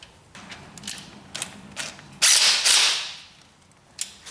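A ratchet wrench works a bolt loose from a car drivetrain on a split-window coupe chassis, giving close, sharp metallic clicks and bursts of rapid ratcheting, with longer rasping runs in the middle and a final click.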